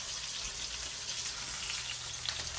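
Thick marinated steak sizzling in a pan over medium-high heat, a steady close hiss of frying with faint popping spatters throughout and no talking.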